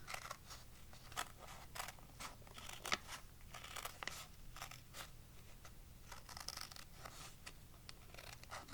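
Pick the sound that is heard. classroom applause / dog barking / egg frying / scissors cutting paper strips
scissors cutting paper strips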